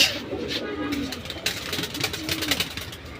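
Silver bezi pigeons and their chicks coo in low, rolling calls, close and moderately loud, with faint human voices in the background.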